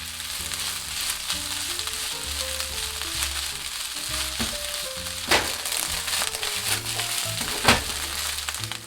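Fried rice sizzles steadily in a hot pan as it is tossed, pressed and mixed, with a constant hiss, scattered spatula clacks and occasional louder scrapes, while a soft melody plays in the background.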